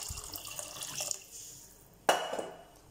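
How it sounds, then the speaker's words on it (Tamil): Tamarind water poured into a pot of sambar, a soft running liquid sound near the start, then a sharp clink of a vessel and a brief splash, close and fairly quiet. "இதுக்கு தேவையான அளவு நம்ம புளி தண்ணியை ஊற்ற போகிறோம்."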